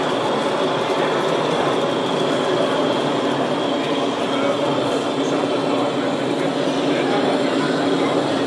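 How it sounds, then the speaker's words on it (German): A Gauge 1 model train with a 5XL sound decoder and an SB Modellbau motor runs steadily at a Munich running meet, giving a continuous whirring rumble with a faint rattling texture, fairly loud and unbroken throughout. "Und jetzt lassen wir mal den Zug fahren."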